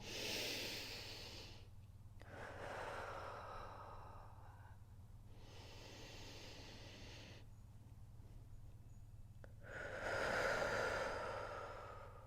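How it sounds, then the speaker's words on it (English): Slow deep breathing during a spine-arching stretch, with long airy inhales and exhales alternating with short pauses, close and fairly soft, over a low steady hum. "Nice big inhales and exhales as we arch and curve through the spine"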